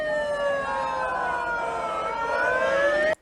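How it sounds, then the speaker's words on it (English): A wailing electronic siren sound played by protesters sweeps steadily up and down, loud and continuous for a few seconds before cutting off abruptly. "these losers are playing that siren noise."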